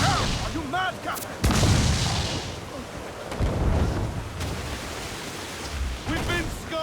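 Ship cannons firing during a naval battle in Assassin's Creed IV Black Flag, heavy booming blasts with roaring rumble and crackling debris, mixed with shouting crew voices.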